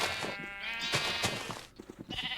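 Sheep in Minecraft give several short, sharp bleats in quick succession, close and clear, with a brief lull before more calls, no talking over them.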